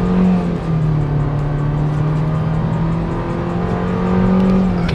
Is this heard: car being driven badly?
yes